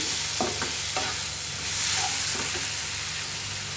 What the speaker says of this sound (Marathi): हे बघा असं परतून घ्यायचं एक चार पाच मिनिटं तरी परतून घ्यायचं आहे टोमॅटो आणि कांदा चांगला मऊसूत शिजला पाहिजे